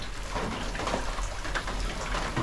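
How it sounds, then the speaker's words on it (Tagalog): Heavy rain pours down outdoors as a steady, dense hiss with no breaks, close and fairly loud. "grabe yung ulan"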